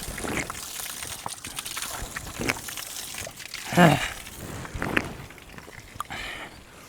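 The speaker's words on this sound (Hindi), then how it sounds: "कल की बारिश से देखो भाई यहाँ धारे में कितना ज़्यादा पानी बढ़ चुका है।" A mountain stream in Uttarakhand, swollen by monsoon rain, rushes and splashes continuously close by. The water rises into a few brief louder surges, and a faint voice can be heard now and then.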